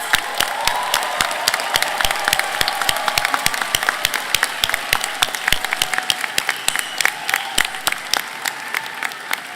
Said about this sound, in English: let's give another round of applause to all the people whose love and support made this day possible